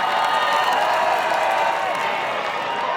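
A crowd cheers at an ultimate frisbee bronze medal match between Australia and Great Britain at the 2024 World Ultimate Championships, a dense sustained roar of voices and applause filling the whole stretch.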